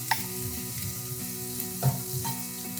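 Onions frying in a pan as salt is stirred in, with a steady sizzle and a few sharp scraping clinks from the spoon against the metal.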